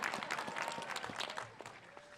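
A commencement ceremony audience at Marist College bursts into a brief round of clapping that fades out quickly after a second or so.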